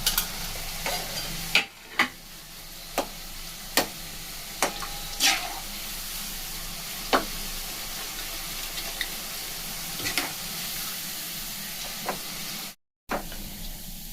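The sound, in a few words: sweets frying in oil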